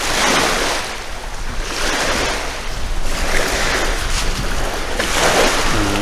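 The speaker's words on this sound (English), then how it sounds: "The wind is blowing." Strong wind buffets the microphone beside the Cassiar Stewart Highway (Highway 37) at Cassiar Provincial Park on an Alaska road trip, a loud, continuous broadband roar with gusty swells and no talking.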